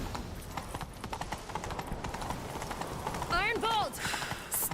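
Rapid rhythmic hoofbeats of a galloping horse in The Witcher 3 pound under a busy game soundscape, with a horse whinny rising briefly near the end.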